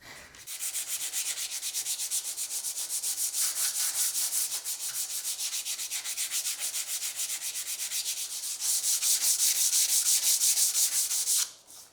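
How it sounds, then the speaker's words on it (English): Steady, continuous rubbing of sandpaper on a wooden ogee bracket foot for a chest of drawers, in rapid back-and-forth strokes with a brief pause near the end. "that's just going to be a lot of sanding"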